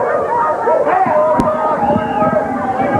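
Wrestling fans bark like dogs in a dense, overlapping chorus of voiced yips and howls imitating dogs, loud and close, mixed with crowd noise and a commentator talking over it.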